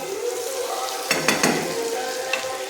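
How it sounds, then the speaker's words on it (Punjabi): Onion sabzi cooks over a low flame in a pan with a steady soft sizzle, and a few sharp stirring scrapes and clatters come through near the middle and toward the end. "ਆਪਣੀ ਸਬਜ਼ੀ ਹੈ ਮਾੜੇ ਮਾੜੇ ਸੇਕ ਤੇ ਬਣੀ ਜਾ ਰਹੀ ਹੈ"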